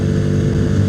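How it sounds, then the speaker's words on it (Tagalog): An FKM Victurino 250i motorcycle engine runs close and loud, a dense steady low rumble with constant exhaust throb for about a second. "Ang ganda ng tunog, ang lakas pa ng makina."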